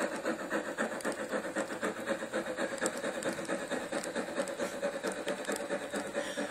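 A model Heisler locomotive pulling a log train runs steadily, a fast rhythmic mechanical chatter with repeated clicking pulses, fairly close and moderately loud, with no talking.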